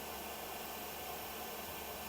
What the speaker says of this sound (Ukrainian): І тоді може от такий фен спокійно працювати.